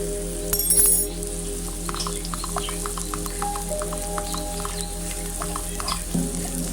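Cauliflower with tomato paste and spices sizzles steadily in a pan, a continuous close frying hiss with light stirring scrapes and a brief clink near the start, no voices.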